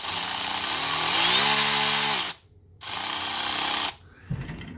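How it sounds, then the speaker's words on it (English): A Milwaukee Fuel 3/8 inch cordless ratchet whirs loudly and close in two bursts, the motor pitch rising and falling as the throttle changes, separated by a short silence. "This is a 3/8 Milwaukee fuel ratchet."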